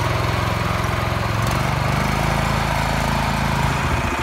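A BRAIT BR-135GEDS walk-behind tractor engine runs loud and close with a steady, continuous chugging drone, and no one speaks.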